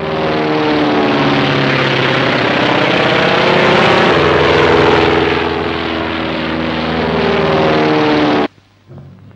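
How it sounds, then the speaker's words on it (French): A propeller airplane flies past, its loud engine drone swelling and shifting in pitch, then cutting off abruptly near the end. "L'avion réduit les distances."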